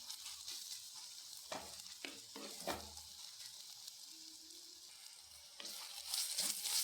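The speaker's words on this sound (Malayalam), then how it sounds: "ഇത്ര ഇളക്കി കൊടുക്കാം" Colocasia stem thoran with onions sizzling in a pan while being stirred, several scraping strokes of the spoon breaking through a steady fry hiss, with a louder sizzle burst near the end.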